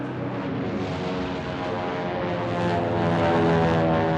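P-36 propeller fighter planes flying overhead make a loud, steady droning roar of piston engines that swells slightly toward the end.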